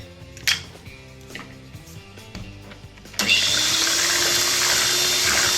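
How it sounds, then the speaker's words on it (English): Marble cake batter being whisked with three eggs: after about three seconds of quiet, scattered kitchen clatter, a loud, steady, whirring whisking noise starts and runs without a break to the end. "Whisk again for a few minutes."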